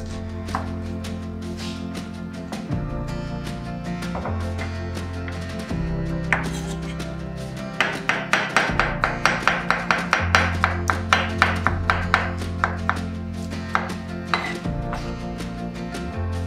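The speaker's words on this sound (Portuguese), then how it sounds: "Então agora eu vou cortar, vou picar bem picadinho e colocar na panela." A knife chops food on a board while pineapple is being prepared, a run of quick, crisp taps that builds into a fast, even rhythm partway through, heard over steady background music.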